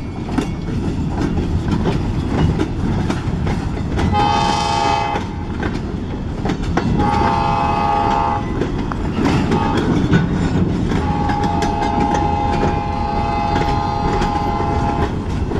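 A freight train locomotive rumbles past with clattering wheels on the rails, and a horn sounds in several slightly off-sounding blasts, the last one long and steady.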